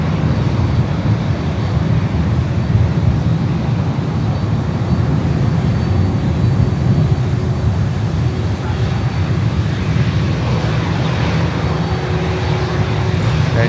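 A Latam Cargo Boeing 767 at Miami airport, its jet engines a loud, continuous rumbling roar with steady wind buffeting throughout, no distinct talk over it.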